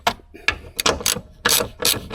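A hand ratchet undoes 12 mm bolts on the gear selector of a V6 Mazda Bongo, with several close, sharp bursts of rapid clicking separated by short pauses.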